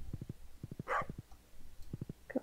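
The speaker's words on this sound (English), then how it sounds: "Oh my gosh, the barks have been so annoying." A dog barks in the farming game Stardew Valley: short, quiet yips in quick clusters of three, repeating at a steady pace with brief pauses between bursts.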